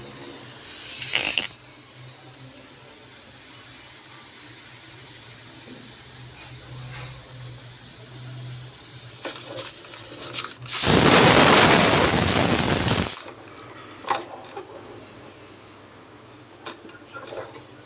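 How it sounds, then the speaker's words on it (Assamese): A pressure cooker of rajma sits on a low flame, giving a soft continuous hiss, then a loud, harsh burst of escaping steam for about two seconds before it settles back to a quiet hiss. "10 মিনিটৰ কাৰণে জুইৰ ওপৰত প্ৰেছাৰ কুকাৰটো ৰাখি থ'ব"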